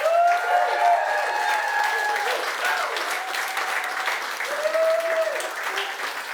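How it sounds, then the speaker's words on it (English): A studio audience applauds at a skincare product launch event, steady clapping with cheers and whoops over it, fairly close and loud throughout. "So can we give everybody watching at home a big round of applause?"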